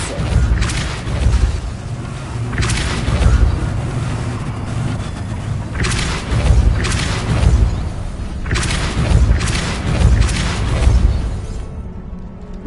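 Depulso spell blasts in a wizarding video game: repeated heavy booming bursts in clusters over a dense, loud, rumbling background.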